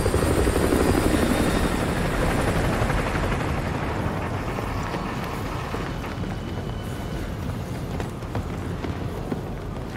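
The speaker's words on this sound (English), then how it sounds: "Enemy helo patrolling the perimeter." An enemy helicopter patrols a perimeter in the Call of Duty Modern Warfare 2 Remastered game, its rotor chop loud and continuous throughout with a steady thudding roar and no talk over it.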